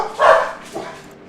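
Puppies barking indoors during a racing stream: two close, loud yips, the first bark full and the second shorter and softer, with no talking over them.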